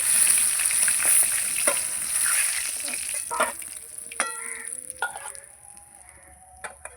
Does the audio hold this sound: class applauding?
no